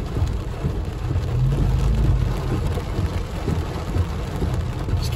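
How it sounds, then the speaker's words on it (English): Hail and heavy rain clatter densely during a thunderstorm in the Big Bear area, a continuous loud rattling wash with a deep rumble underneath and no voices. "Start hailing."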